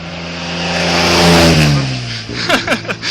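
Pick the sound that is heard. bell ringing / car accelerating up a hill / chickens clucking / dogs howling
car accelerating up a hill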